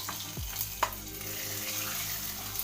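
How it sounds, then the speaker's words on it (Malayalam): Hot tempering poured into ash gourd pachadi, giving a brief sizzle and a soft stirring scrape, followed by a quieter, steady frying hiss. "പിന്നെ താളിപ്പ് ഇതിലേക്ക് ഒഴിച്ച് കൊടുക്കുക."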